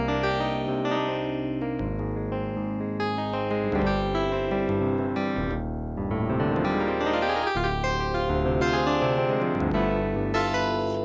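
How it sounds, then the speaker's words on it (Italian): A bright, bell-like FM synthesized piano tone from a Korg DS-8 plays a continuous busy passage of chords and runs, steady and fairly loud, without any talking. "questo era il suono di piano, era il numero 1 nella versione"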